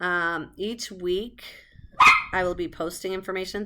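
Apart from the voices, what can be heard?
dog barking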